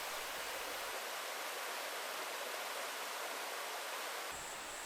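A mountain stream in Gucheondong valley pours over a long stretch of rock with a dense, steady rush of water, loud and close, without pause.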